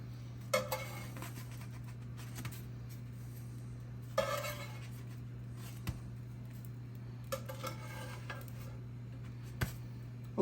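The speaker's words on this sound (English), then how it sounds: "It's time to start turning them over." English muffins turned over on a griddle, three short scraping clatters of a spatula spaced a few seconds apart, faint and close over a steady low hum, with a couple of small ticks between.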